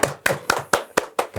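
Several people clap for two guests at a 2024 election talk event, six sharp, evenly spaced claps, near and fairly loud, with no talking.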